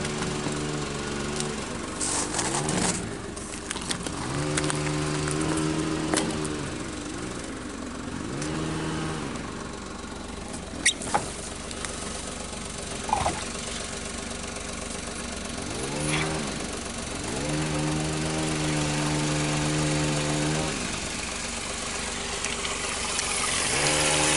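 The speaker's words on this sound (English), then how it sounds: "That's background noise of them cutting trees, not the water." Tree-cutting machinery drones in the background near water, a continuous motor hum that rises and falls in repeated revving swells, fairly faint and steady throughout.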